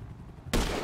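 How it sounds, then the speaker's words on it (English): A single loud gunshot in the Grand Theft Auto V video game, a sudden sharp blast after a quiet stretch, followed by a sustained roaring tail. "And now I'm taking a shot."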